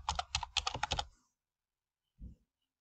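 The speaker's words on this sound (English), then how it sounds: "just type our SQL query text as select star from customer" Quick bursts of keystrokes on a computer keyboard as an SQL query is typed, a close clicking run of about a dozen taps, then silence and one short final tap.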